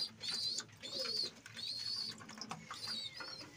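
Domestic pigeons, including a female, coo softly in a loft, several low throaty calls repeating in short phrases, close but fairly quiet, with a few faint chirps and no speech.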